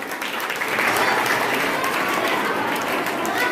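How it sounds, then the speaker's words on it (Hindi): Sustained, dense applause from a school audience honoring a Class 8 student who won first rank in a poster contest at a Hindi Day event, steady and fairly loud throughout with no voices standing out. "जोरदार तालियों से सम्मान करें श्रेष्ठ तिवारी का।"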